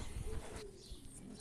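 Pet birds coo softly in low, rounded calls, a few brief murmurs amid light background rustling, fairly faint and without speech.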